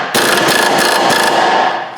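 An impact wrench tightens strut bolts on a Hyundai Santa Fe in one loud, close burst of rapid mechanical hammering that lasts about two seconds before tapering off.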